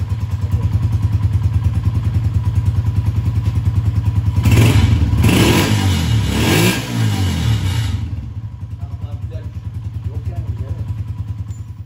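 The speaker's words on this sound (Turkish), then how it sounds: "sen gel bakayım ben arkadan duyayım motorun sesini" A motorcycle fitted with a double exhaust idles with a loud, steady throbbing pulse close by, then revs hard for a few seconds before settling back to a rumbling idle, with people talking nearby.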